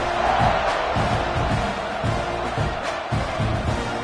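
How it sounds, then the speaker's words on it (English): A video-game stadium crowd at a college football game roars continuously, a dense wash of cheering voices with rhythmic surges and chant-like pulses throughout. "Do you think this crowd's going to get loud when their defense comes on the field?"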